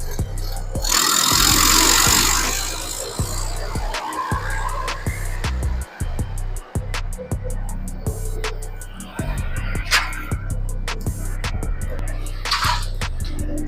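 Small crew wood chipper running with its clutch engaged, the disc spinning inside the cover and the throttle up. It gives a loud, constant mechanical roar with a string of sharp rattling clicks, and its pitch shifts over time.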